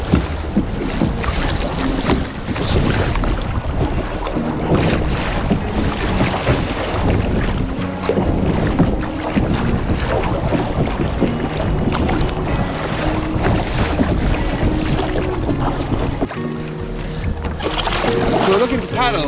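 A kayak paddles on the sea near a sandy shore, with wind buffeting the microphone and continuous water sloshing and splashing throughout, and someone speaking at times over the noise.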